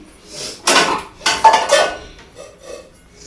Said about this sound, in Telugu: ఇక్కడ ఇప్పుడైతే గిన్నెలన్నీ తీసేసి సర్దేస్తాను